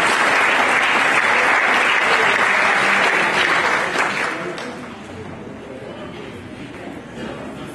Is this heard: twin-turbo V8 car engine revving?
no